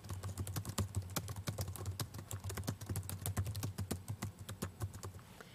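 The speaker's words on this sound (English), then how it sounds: "here you can go in and simply type your question." Question typed on a computer keyboard, a quick irregular run of soft close key taps continuing steadily throughout, alone without voices.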